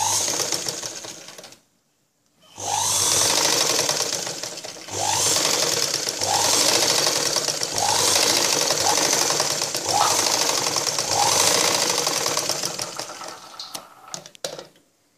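A sewing machine stitches blouse fabric in long, steady whirring runs close by, stopping briefly near the start and again at the end.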